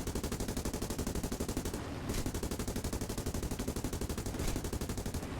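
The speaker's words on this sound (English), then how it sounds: "I'll fire a couple of shots at him," Turret machine guns on a B-10B bomber firing in War Thunder, a continuous rapid stream of loud, evenly spaced shots with two brief gaps, close and dense throughout.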